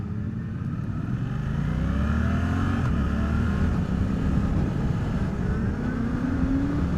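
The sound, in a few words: Suzuki GSX-8R motorcycle accelerating, shifting up with quick shifter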